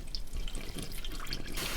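Motor oil pours from the open drain of a 2014 Toyota Corolla 1.8L after the drain bolt comes out, a steady close-up liquid stream with light splashing and dripping throughout, no voices.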